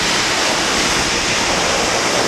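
Crystal Falls waterfall pouring heavily, a loud, constant broadband roar of rushing water close by, unbroken and without voices.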